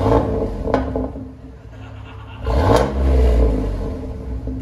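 A 2003 Chevy Silverado with a 4.3L V6 and Flowmaster Super 10 muffler revs up, a deep exhaust rumble rising from idle into a loud surge and holding, heard nearby.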